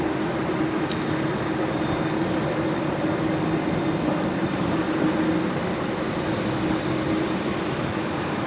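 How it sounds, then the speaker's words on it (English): A Qantas Airbus A330 sits after pushback at the Brisbane domestic terminal at night, bound for Sydney, giving off a steady, even jet engine drone that holds at a constant level throughout. "So the 330 here just pushed back from the domestic terminal, operating to Sydney this evening"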